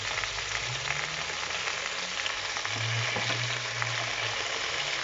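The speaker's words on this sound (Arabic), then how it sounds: "On va mettre tous les oignons." Onions frying in a pan for a Moroccan pastilla filling, heard as a steady close sizzle and bubbling hiss with light stirring, and no voices.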